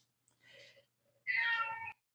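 A cat meows for tuna, two separate calls indoors: a softer, shorter meow followed after a pause by a louder, drawn-out one, both close and clear against near silence.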